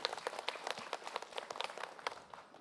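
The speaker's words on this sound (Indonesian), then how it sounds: "Tepuk tangan Pak Ustadz Bani" Audience applause for Pak Ustadz Bani at a religious talk: faint, scattered clapping from a small crowd, steady for a couple of seconds then fading.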